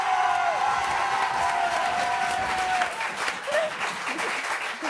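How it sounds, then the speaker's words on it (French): A French TV studio audience applauds a guest, a full loud wash of clapping with some cheering and whoops, sustained throughout with a brief voice or whistle rising above it. "s'il vous plaît, vos applaudissements"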